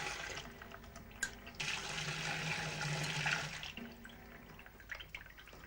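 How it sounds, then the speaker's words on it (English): Water gushing out of a washing machine pressure switch during a pressure test: a rushing, splashing flow that swells for a couple of seconds, then trails off into drips and trickles. "if I release the pressure, the water will start coming out"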